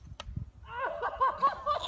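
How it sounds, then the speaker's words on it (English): A golf drive off the tee, the ball struck cleanly and then hitting a duck: one sharp crack early on, followed by a run of excited, rising vocal cries. "what you heard there was what sounded like him hitting the ball twice."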